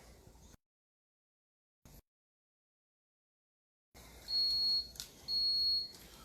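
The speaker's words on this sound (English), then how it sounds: "That beeping is just telling us that I didn't close the fridge properly." Two sustained electronic beeps from a fridge door-open alarm sound one after another, each held for about a second, high-pitched and clear, over faint kitchen background after a stretch of silence.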